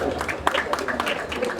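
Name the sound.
audience applause for prize winner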